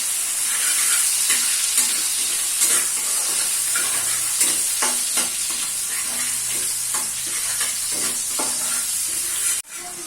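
Sugar browns in hot oil for colour, making a continuous close sizzle broken by repeated stirring scrapes and small pops, then a brief dip near the end.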